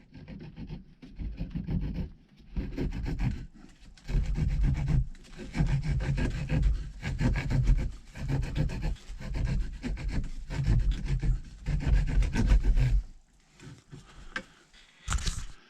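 A wooden log is worked by hand outdoors to carve a cylinder notch, with long rasping rubbing and scraping strokes close by in repeated bursts separated by brief pauses, and no voices.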